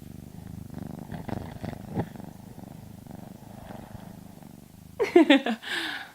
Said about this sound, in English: So that's a Hopey purr, and they like to purr together.